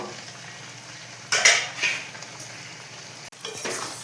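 Mutton curry being sautéed in a pan gives a sudden burst of sizzling and frying with stirring scrapes, fading and then picking up again toward the end; the sound is close and moderately loud, with no speech.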